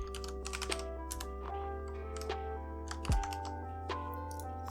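Rapid typing on a computer keyboard, close and continuous clicking with irregular bursts of keystrokes and one heavier thump midway, over a low steady hum.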